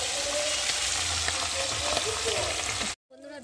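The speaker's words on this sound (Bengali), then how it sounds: "এই 2 পিসটা দিয়ে ভালো করে আবার ভেজে নেব" Pabda fish pieces frying in hot oil in a pan, a loud, dense, continuous sizzle and crackle up close that cuts off abruptly near the end before faint sounds resume.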